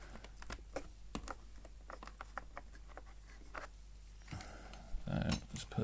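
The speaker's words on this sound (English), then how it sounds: "I don't think I need to turn the keyboard off to take the ROM out" A ROM cartridge is pulled from a Casio MT-800 keyboard, making a quick run of small plastic clicks and taps, then a louder rattle and thump near the end.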